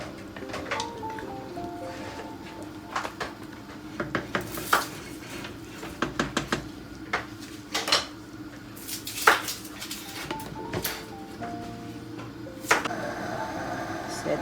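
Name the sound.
stirring beef caldereta in a pot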